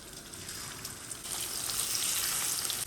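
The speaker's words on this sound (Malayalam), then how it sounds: "നമ്മൾ എന്നിട്ട് ഈ മീൻ ഓരോ കഷ്ണങ്ങളാക്കി പെറുക്കിയിട്ട് ഒന്ന് നല്ലവണ്ണം മൂത്ത് പോകാതെ നമ്മൾ വറുത്തെടുക്കുന്നു" Fish pieces shallow-frying in hot oil in a pan for a fish roast, a steady close sizzle and crackle that swells louder partway through and keeps spattering without talk.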